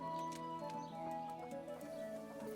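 Hooves clip-clop from a horse in the medieval game Kingdom Come: Deliverance, faint and steady under a low ambient bed with occasional bird chirps.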